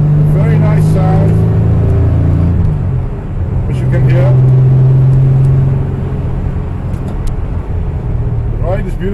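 A Jaguar Mk II sports saloon engine pulls up through the revs from inside the car, a loud rising drone that drops, then climbs again, with someone talking over parts of it.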